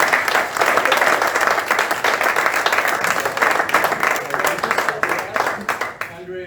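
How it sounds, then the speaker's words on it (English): Audience at a Medicare for All forum in Milwaukee bursts into sustained applause, dense clapping that holds loud for several seconds before tapering off, with some voices mixed into the crowd. "Everybody give Tim Shaw a round of applause"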